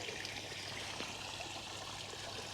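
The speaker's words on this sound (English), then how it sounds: "Cascade's running, looks beautiful." Water spilling down a garden pond cascade outdoors, a steady soft rush and trickle with no pauses, low in level and heard alone.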